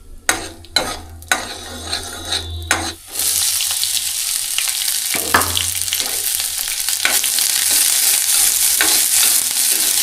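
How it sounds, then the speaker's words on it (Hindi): Peanuts and onions fry in hot oil in a kadai, a few sharp clattering stirs at first giving way to a loud, steady, broadband sizzle that holds close and continuous with no talking. "अब बस रह गया मूंगफलियों को फ्राई करना और अपने प्याज को फ्राई करना"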